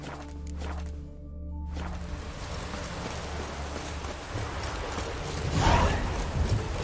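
Rain falls in The Witcher 3, a steady hiss of rainfall across the whole stretch with a brief mechanical thud, swelling slightly louder toward the end.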